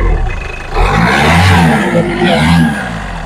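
A Ford Fiesta engine idles steadily after a jump start on a low battery, a loud, close mechanical drone that swells slightly midway and holds without pause.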